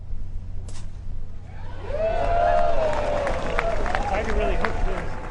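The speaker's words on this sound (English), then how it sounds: "Y.E. Yang is teeing off next, and let's see what the crowd reaction is to his shot" A golf crowd at the Presidents Cup in San Francisco reacts to Y.E. Yang's tee shot, a swelling murmur and rising cheer with scattered clapping over outdoor background noise and some nearby voices.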